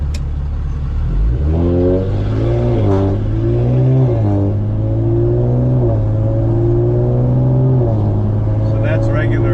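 Modified Audi RS5 engine pulling hard under acceleration, its loud, rising tone dropping at each gear shift in a steady series of pulls, close and continuous.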